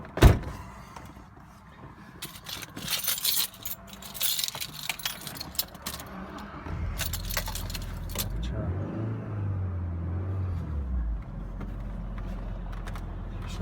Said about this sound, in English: the last thing to do is to fire up your engine and listen how happy your car is with the new oil